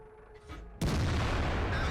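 A 128mm tank gun fires in World of Tanks, one sudden loud blast after near quiet, followed by a long rumbling roar that fills the rest of the moment.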